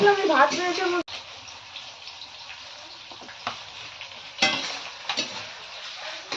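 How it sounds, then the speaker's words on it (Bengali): Onion and tomato frying in a wok, a soft steady sizzle with occasional stirring scrapes after a brief burst of talk at the start. "পেঁয়াজ টমেটো ভাজছে ও"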